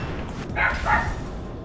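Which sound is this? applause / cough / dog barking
dog barking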